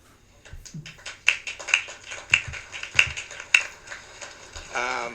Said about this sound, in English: that was the nastiest clap I've ever seen in my life